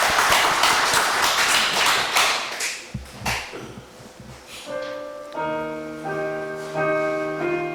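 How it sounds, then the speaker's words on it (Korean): A church congregation claps together in a dense, fast patter that fades after a few seconds, then sustained musical tones take over. "영광의 박수 드리겠습니다."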